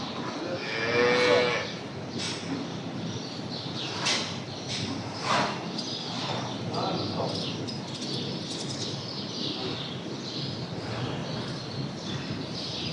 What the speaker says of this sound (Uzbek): Bir haftalik buzoqchilar. Dunyoga kelganiga bir hafta bo'lgan.